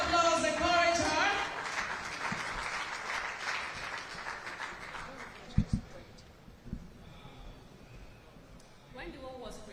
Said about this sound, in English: A round of applause, encourage her.